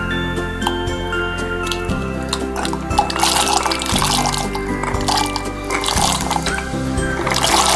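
Water pours steadily into a cooking pot to boil shelled corn, a continuous liquid splash and fill sound, fairly close, with a steady tonal background underneath.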